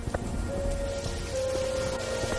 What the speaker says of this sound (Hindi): इतना कहकर लखन उस तेज बारिश में घर के लिए चल पड़ता है।